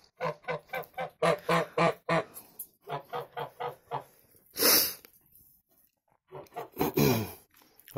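An angry cream goose honks in a fast run of sharp, loud calls, pauses, then gives a harsh hiss and another burst of honking, close to the microphone.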